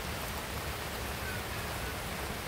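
Rain falls steadily outdoors at a plant nursery, a constant soft wash of noise with no breaks or voices.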